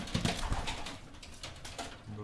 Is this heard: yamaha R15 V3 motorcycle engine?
no